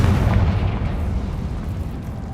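A booming Confringo fire spell explosion in Hogwarts Legacy, one loud sustained blast rumbling and slowly fading, with no speech over it.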